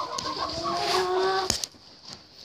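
Hens in a backyard poultry coop at feeding time, clucking in a quick, close, busy chorus, followed by a brief clatter and then a quieter tail.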